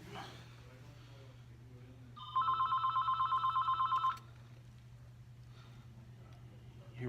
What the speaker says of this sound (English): Hear my phone ringing.